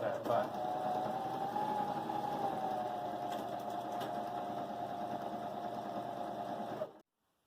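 A Husqvarna Viking Emerald 118 sewing machine runs at a steady whirring pace while stitching a buttonhole, close and even throughout, then cuts off abruptly to silence near the end.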